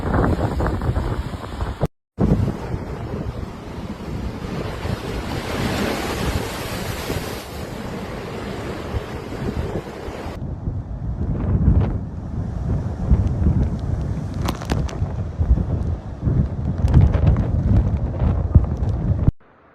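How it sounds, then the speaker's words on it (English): Storm waves crash and surge along a seafront in Devon and Cornwall while loud gusting wind buffets the microphone, a continuous roaring wash broken by a brief dropout near the start and heavy breaking surf throughout. "The waves can be seen rising high into the air and crashing down on vehicles meters away. The wind can be heard billowing loudly."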